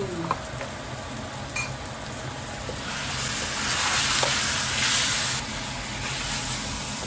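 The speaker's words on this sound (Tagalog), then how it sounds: "sa pagkakataong yan ay ilalagay na ang karne" Meat dropped into a pan of frying garlic for Filipino igado, a loud continuous sizzle that swells midway with a few utensil clinks and scrapes, no speech.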